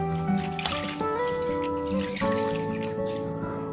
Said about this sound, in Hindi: इसमें पानी में डालूंगा इतना ताकि सारा चिकन जो है इसमें डिप हो जाए